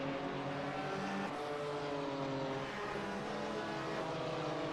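Identical BMW M4 GT3 race cars roar around Suzuka in a racing video game, a continuous loud engine drone holding steady with a slight dip partway through, no voices.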